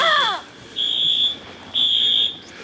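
An indoor fire alarm goes off during a snowstorm, sounding as two loud, even beeps about half a second each, with a voice briefly heard at the start.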